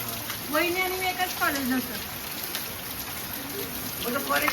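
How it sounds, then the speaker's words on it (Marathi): Steady, dense hiss of heavy rain pouring down, with voices talking faintly underneath. "अचानक वातावरण चेंज झालं धो धो पावसाला सुरुवात झाली"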